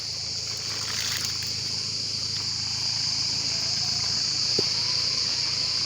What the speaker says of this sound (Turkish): Cırcır böcekleri çok felaket.